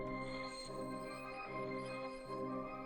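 An FL Studio beat sample with effects applied, a dense, washed synth tone with a deep low end and gentle pulsing swells, steady and fairly faint, with no voices.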